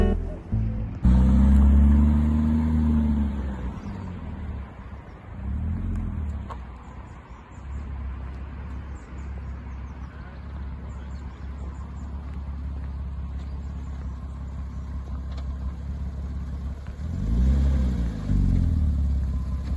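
A Porsche Cayman 2.7 with an MRN twin-turbo conversion drives on the road. A steady low engine rumble runs throughout, swelling louder at the start and again near the end, with no voices.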